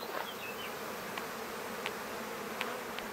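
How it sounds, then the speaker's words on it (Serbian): Honeybees buzz busily over blooming sunflowers on a warm morning in a dry summer, a soft continuous hum with a few individual bees passing close and briefly louder. "Vidite, aktivnost pčela je dosta velika."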